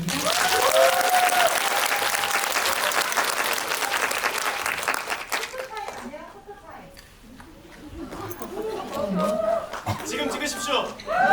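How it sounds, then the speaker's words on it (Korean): A crowd at the Busan International Film Festival claps loudly and steadily for several seconds, then the applause thins out and scattered laughter and chatter rise near the end. "큰 박수 부탁드립니다."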